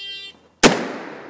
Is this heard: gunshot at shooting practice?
yes